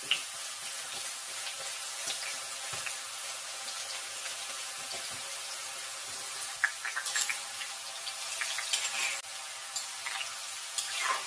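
Thinly sliced banana chips fry in very hot oil, a steady, dense hiss and crackle that continues throughout, with occasional sharper pops and no talking.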